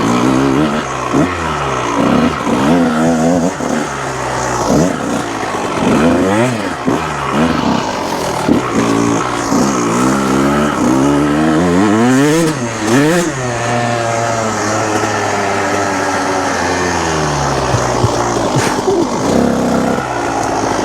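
A rebuilt 1998 Kawasaki KX125 two-stroke dirt bike ridden hard, its engine shrieking up through rising and falling revs with quick gear changes, loud and close throughout.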